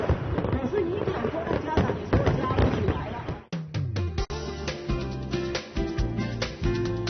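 Fireworks cap the end of a holiday celebration on a seaside trip, with sharp bangs and crackles over crowd noise and music, followed by rapid booming bursts near the end.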